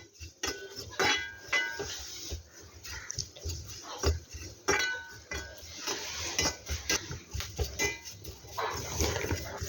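A metal spoon scrapes and clinks against a pan while coconut, garlic and curry leaves roast, giving irregular close taps and rattles over a faint sizzle.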